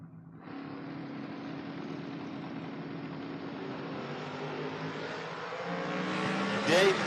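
Camaro and Firebird drag racing, heard as a sustained, building engine roar with steady harmonic drone that swells louder toward the end, like cars launching down the strip.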